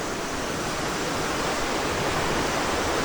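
Waterfall at an amusement park in the Philippines, a steady, loud broadband rush of falling water heard up close, constant with no breaks and no voices.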